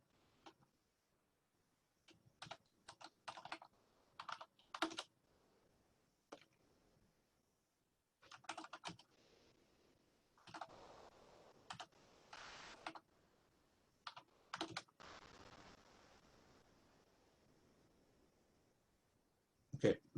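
Typing on a computer keyboard during a phishing attack demo: quiet, irregular bursts of key clicks and taps, several short clusters separated by pauses, with a longer run of rapid keystrokes in the middle, no talking.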